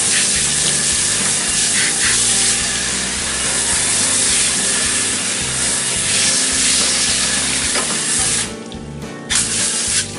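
A strong water spray blasts steadily across rusty steel parts, a loud continuous hiss that cuts off briefly near the end before resuming.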